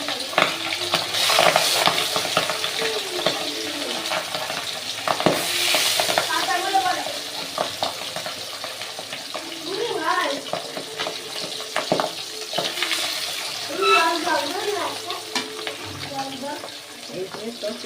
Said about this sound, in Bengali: এবার আমি মাছগুলো ভেজে নেবো এক এক করে।